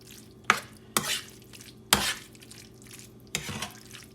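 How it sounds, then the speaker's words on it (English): A spoon stirs mushroom soup mixture in a pan, with a few distinct scraping sweeps spaced about a second apart over a soft background. Close and fairly clear, with no talking. "We're going to keep stirring until it's melted"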